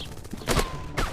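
Gunfire in a counter-terrorist first-person shooter game: two short sharp shots about half a second apart, close and loud over a steady game-audio background.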